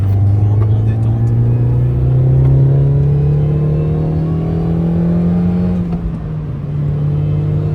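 A supercharged Mini JCW R53 car drives along with a steady engine drone and a rising whine, and the pitch climbs gently before easing off.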